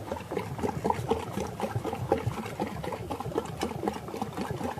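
An ice cream machine churns Oreo crunch ice cream with a continuous rumbling, sloshing mechanical drone, close and steady, with no voices.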